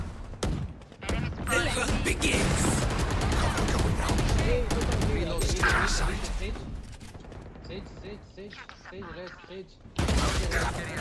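Rapid automatic gunfire from the video game Valorant plays almost continuously in dense bursts. It is loud and close, with a few brief pauses and a final burst near the end.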